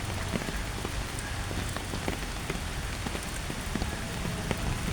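Steady rain patters on surfaces on a monsoon morning in a green outdoor spot, an even, close wash of drops with scattered sharper taps, continuous with no voices.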